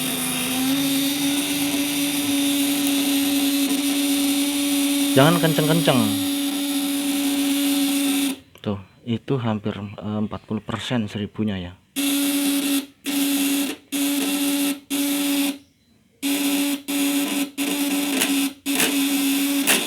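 A small electric motor whines steadily at high speed, cutting in and out in bursts near the end, while someone talks over it.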